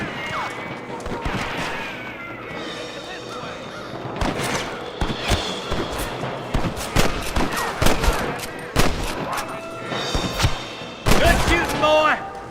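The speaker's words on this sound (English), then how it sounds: "Good shooting, boy." Gunfire in the Red Dead Redemption western game: scattered rifle and pistol shots, some close and sharp, others more distant, popping irregularly throughout, with voices speaking over the shooting.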